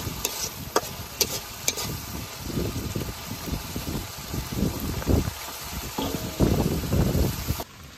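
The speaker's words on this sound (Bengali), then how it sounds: "মশলাটা খুব ভালোভাবে কষিয়ে নেই।" Masala is stir-fried in a pan for a mutton khichuri and brain bhuna meal, with repeated loud scraping spatula strokes over a steady oily sizzle, rhythmic and close.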